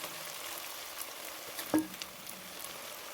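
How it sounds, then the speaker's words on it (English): Onions frying in oil in a pan while cooking a simple Kenyan chicken dish, a soft steady sizzle with one brief louder crackle near the middle. "Next we're going to add our onions on the same oil, the same pan."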